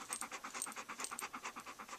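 Dog panting rapidly up close, quick rhythmic breaths at roughly six or seven per second, soft but distinct and alone.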